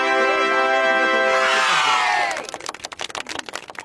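A group of people at a phone shop celebrating fifty phones sold, first shouting and whooping together, then breaking into a couple of seconds of brisk, close clapping.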